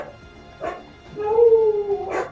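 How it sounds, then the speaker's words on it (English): A dog in Final Fantasy XIV gives a couple of short yelps followed by a drawn-out whining howl, close and fairly loud against a quiet background. "That's a loud dog."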